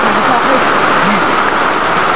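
Heavy rain falls steadily and loudly as a dense, continuous hiss and patter, close and unbroken, with faint voices murmuring underneath.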